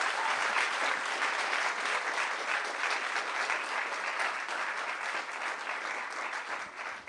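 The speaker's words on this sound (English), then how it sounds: "one more round of applause, right?" An audience at a Skylight Books author reading applauds steadily and loudly, a dense, sustained wash of many hands clapping that holds evenly for the whole stretch with no speech over it.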